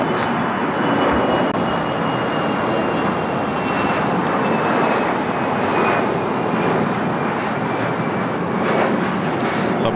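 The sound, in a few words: Bombardier Global 5000 business jet aircraft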